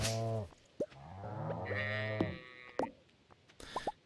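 Farm cows in the Stardew Valley video game, a few short animal calls and bleat-like sounds with game effects, with quiet pauses between them.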